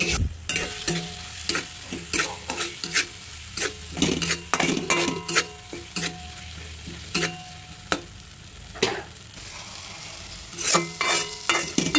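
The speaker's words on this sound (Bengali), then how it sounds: "এরপর এখন মশলাটা ভালোভাবে কষিয়ে নেব যতক্ষণ না তেল ছাড়ছে" Masala spice paste fries in oil for aloo dum while being stirred hard, a constant sizzle broken by many quick metallic scrapes and clinks of a spoon against the pan.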